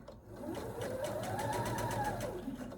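Sewing machine stitching a thick fabric basket seam with raw edges together, a steady rapid needle rhythm running continuously and close for the whole stretch, with no talk.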